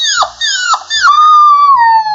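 A human voice imitates a puppy's soft, high whine: a few short descending whimpers, then a longer sliding whine that falls gradually, close and clear with no other sound.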